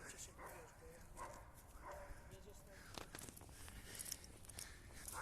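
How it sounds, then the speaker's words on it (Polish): Dogs bark and yip somewhere outdoors along a walking route, fairly close but mixed with footsteps and background noise, with short bursts scattered through the clip. "O, pieski."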